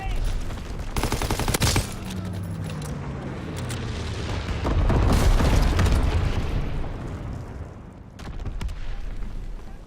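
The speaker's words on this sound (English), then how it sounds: "Enemy bomber! Incendiary bombs incoming!" Incendiary bombs and gunfire from a World War II Call of Duty battle: heavy booming explosions and dense rattling bursts of automatic fire run continuously throughout, swelling loudest midway, with faint voices mixed in.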